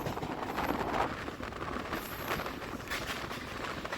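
MEMU local train running from Santragachi toward Jhargram, heard as a steady, loud onboard rumble and rattle with a broad wash of noise throughout and no talking.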